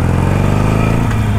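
A Harley-Davidson Iron 883 motorcycle riding, its engine a steady, loud, rumbling drone held close throughout with no pauses and no talk.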